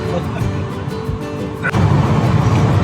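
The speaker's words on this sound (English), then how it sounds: "Sorry about the air conditioner. Sorry about the fan noise." A steady broadband whoosh of a car ventilation fan running for the air conditioning fills the clip, growing slightly louder partway through, with no talking.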